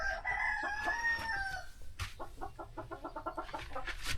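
Chickens in a coop, with a rooster crowing loudly up close at the start, followed by a rapid series of rhythmic clucks and squawks from the hens.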